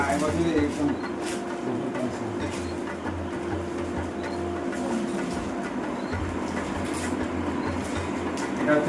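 A train rumbles past near a saree shop in Begampur, Hooghly, its low steady roar and faint rail clatter running throughout beneath people talking nearby.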